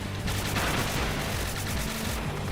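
Rapid gunfire from the video game Spark the Electric Jester 3 plays as a steady, dense burst of shots at moderate level, running continuously without talk.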